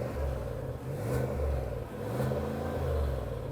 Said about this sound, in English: this car should have an amazing exhaust note when you rev it